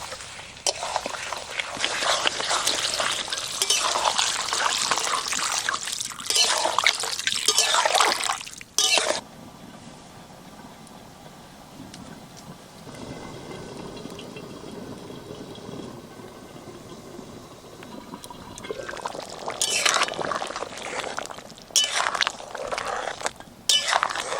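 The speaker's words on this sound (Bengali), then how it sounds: "এবার দিয়ে দেবো জল" Water splashes and streams into a pot of mutton curry cooking with yogurt, a steady pouring wash that eases off midway and then returns with louder splashing and stirring toward the end.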